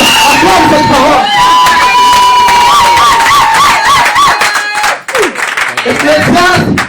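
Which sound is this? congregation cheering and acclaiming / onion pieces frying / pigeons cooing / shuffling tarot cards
congregation cheering and acclaiming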